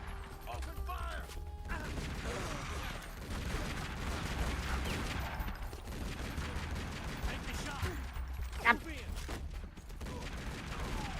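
Gunfire in the game Tomb Raider: Legend, a steady rattle of shots and clattering mechanical action under continuous background noise, with one sharp louder crack near the end.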